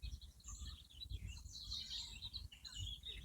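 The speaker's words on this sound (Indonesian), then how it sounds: "Ini aku bisa dengar burung-burung ya di sini." Birds in a forest beside a clear spring give faint, high chirps and twitters scattered through a soft outdoor hush, with no voices heard.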